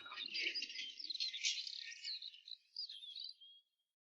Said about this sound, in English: At Toby's shed, the birds were still twittering.